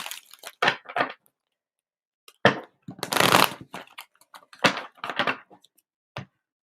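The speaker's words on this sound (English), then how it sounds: "One more good shuffle, and then we will" A deck of tarot cards being shuffled by hand in a few separate bursts of riffling and shuffling, close and fairly loud, with short pauses between them and no talking.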